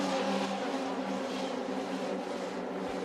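Race cars, twenty-six in the field, roar through the Eau Rouge section of a racetrack in a continuous, strong droning engine whine heard from a distance.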